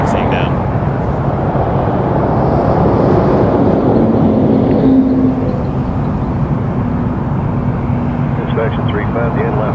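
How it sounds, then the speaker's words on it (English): Heavy aircraft taxi at Toronto Pearson airport, a loud, constant engine rumble and whine with wind buffeting, while a person talks over it. "Still a few heavies taxiing down."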